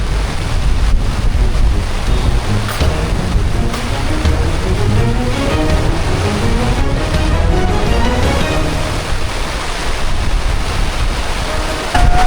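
Strong, steady wind roaring and buffeting the microphone for the whole stretch at a beach campsite, mixed with a broad rush like surf or water.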